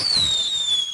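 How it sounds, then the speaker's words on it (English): A firework sound effect, credited to Sharky, used in a Scratch project: a single bright whistle slides steadily downward over a soft crackling hiss, close and fairly loud, lasting about a second. "now we want to start the sound firework here"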